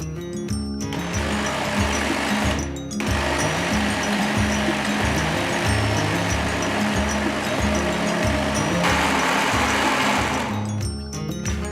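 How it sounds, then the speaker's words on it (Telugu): A mixie grinder runs loud and close, grinding bottle gourd dosa batter with water in steady whirring bursts with two short pauses between runs. "మిగతా కాయ కూడా వేసేసి సొరకాయని కూడా వేసేసి కొంచెం నీళ్ళు పోసి ఒకేసారి రుబ్బేద్దాం"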